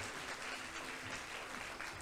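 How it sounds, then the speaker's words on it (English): A public health talk audience claps steadily for the participants, a soft, even wash of applause heard from a slight distance. "Can you give them a round of applause?"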